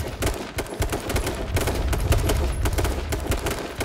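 Sustained automatic gunfire in the H1Z1 survival shooter game, a loud rapid string of close shots with barely any gap across the whole stretch and no talk over it.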